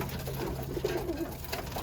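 Birmingham Roller pigeons coo softly in low, rolling murmurs against a faint steady hum, with no voices.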